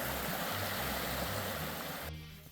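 Small creek flowing, a steady close rush of water that fills the clip evenly and tapers off abruptly at the end.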